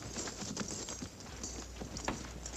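Several cavalry horses' hooves clip-clop on hard ground in an uneven rhythm in a scene from the TV western Bonanza, fairly close, with faint background noise and no talking.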